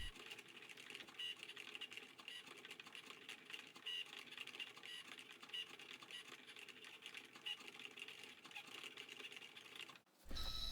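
A Cricut Joy machine cutting a vinyl decal for a tumbler, giving a faint continuous whirring with soft, rapid ticking and scratchy movements, steady throughout, then stopping abruptly just before the end.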